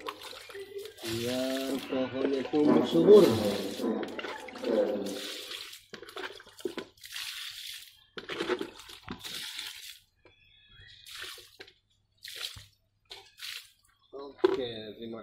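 Liquid fertilizer water is poured onto the soil around a grape vine, giving intermittent splashing and gurgling bursts while people talk over and between the pours.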